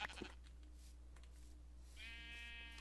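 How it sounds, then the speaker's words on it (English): A single synthetic Minecraft sheep bleat rings out near the end, clean and game-like, over a low steady hum; a short sound of movement comes first. "I'm killing all of the sheep"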